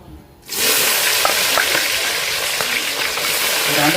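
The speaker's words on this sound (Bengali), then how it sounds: "এখন পেঁয়াজটাকে ভেজে নেব একটু হালকা করে।" Onions fry lightly in hot oil in a home kitchen: after a brief quiet moment a loud, close sizzle bursts up and holds steady, with faint clinks of stirring.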